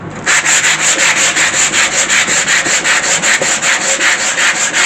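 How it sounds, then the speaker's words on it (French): Sandpaper works over wood during a furniture restoration. Loud, rhythmic rasping strokes repeat at a quick, even pace throughout, close to the microphone with no talking. "le papier à poncer, ben, ça va nous enlever encore des saletés et en même temps ça va nous adoucir un peu les traces de brosse"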